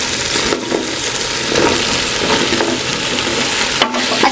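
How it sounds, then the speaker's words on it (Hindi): Bottle gourd (lauki) and chana dal frying and being stirred in a pan, a steady close sizzle with scraping stirs and a couple of brief pauses, no voices. "अच्छे से मिक्स करेंगे और 1 से 2 मिनट तक इन्हें भून लेंगे।"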